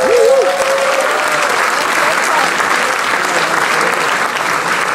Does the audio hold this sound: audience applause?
yes